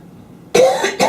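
Two harsh coughs burst out close by after a quiet moment, the second shorter than the first.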